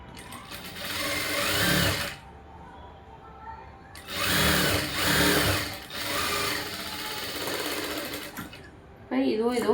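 Electric sewing machine stitching folded blouse fabric in short bursts of rapid mechanical whirring, separated by pauses, with a person talking quietly between the runs.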